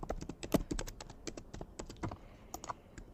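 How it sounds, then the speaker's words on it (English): A computer keyboard typed on while entering text in a design program: a rapid, irregular patter of close key clicks with one heavier keystroke, no voices. "I'm going to click on T on my keyboard and I'm going to type the first text"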